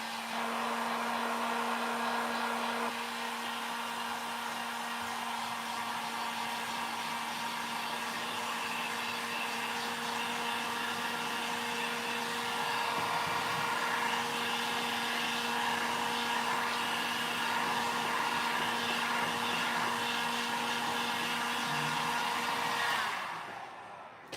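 A hair dryer blows steadily for about 23 seconds to dry painted Christmas decor, a loud continuous whirring hum with a stable tone that cuts off abruptly at the end.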